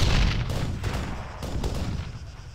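Gunfire in the Arma 3 combat game, a rumbling barrage of distant shots and booms with a few sharper cracks standing out, continuous through the whole stretch with no voices.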